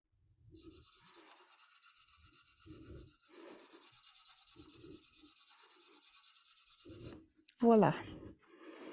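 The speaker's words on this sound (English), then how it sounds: "so I'm just going to sand it up a little bit." Wooden spindles of a yarn caddy sanded by hand, a steady soft rubbing scrape that runs for several seconds with low knocks and handling thumps between strokes, ending in a louder brief scrape.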